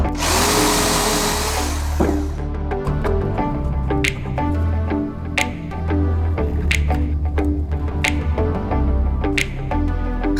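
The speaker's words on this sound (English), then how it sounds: "use it as a tool stop to drill new holes" A power drill bores holes into a wooden board, opening with a loud burst of whirring, then settling into a steady lower drone broken by sharp clicks and knocks.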